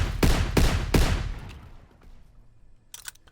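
Three loud, evenly spaced gunshots from a weapon in the World War II–era Call of Duty game with Soviet and German forces, each sharp crack leaving a fading tail, then a faint clatter near the end.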